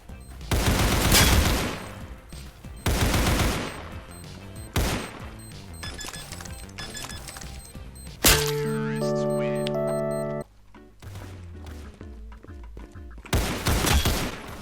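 Rapid AK rifle fire in the Roblox shooter Counter Blox rings out in loud, sharp repeated bursts, broken by a short stretch of game music tones before more shots crack near the end.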